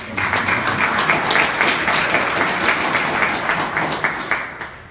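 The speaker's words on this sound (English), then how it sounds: "you can clap for that" Audience applause at a State of the City address in Mount Vernon, New York, a steady, fairly loud roar of many hands clapping throughout with no speech over it.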